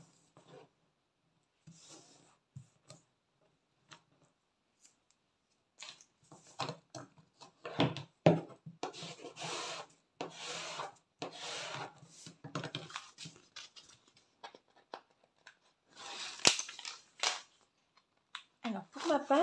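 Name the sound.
adhesive tape being applied along cardboard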